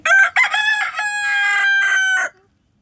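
A rooster crows loudly and close, a single long cock-a-doodle-doo with a few broken notes at the start, then silence.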